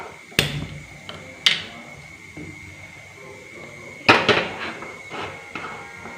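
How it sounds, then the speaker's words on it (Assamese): A wok (kadai) is set down on a home kitchen stove, giving a few sharp metallic clanks and knocks close by, with a brief cluster of clatters partway through amid quiet room noise. "কেৰাহীখন পাতি লৈছোঁ"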